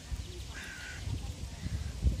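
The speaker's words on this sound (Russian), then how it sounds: "Вороны так каркают." Crows cawing in a city park during a walk, a short caw amid low, rumbling background noise; no speech.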